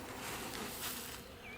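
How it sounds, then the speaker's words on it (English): Bees buzzing inside a hive, a dense, steady drone close by that continues without a break. "a couple of bees"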